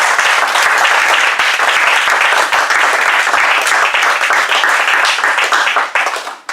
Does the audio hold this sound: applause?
yes